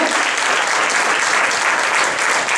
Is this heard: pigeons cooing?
no